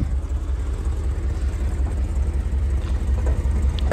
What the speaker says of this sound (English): Nice little dual exhaust burble.